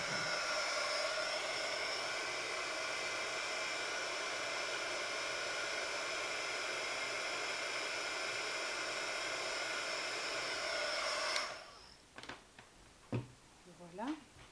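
A heat tool warming embossing powder on a handmade card blows with a steady, loud airy whoosh for about eleven seconds, then cuts off, followed by a few faint handling sounds.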